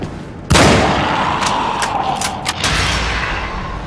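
Gunfire in the video game Anabiosis: Sleep of Reason, a loud sharp shot followed by several quicker, fainter cracks and mechanical clatter, with a booming tail that fades between shots.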